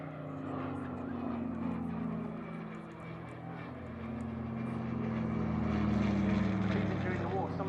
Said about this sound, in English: That rumbling radial sound really sounds wonderful accompanying this aircraft.